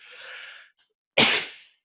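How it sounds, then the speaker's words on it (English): A single sharp, loud sneeze bursts out after a soft inhaled breath and a brief pause, close to the listener in an otherwise quiet room. "excuse me for sneezing"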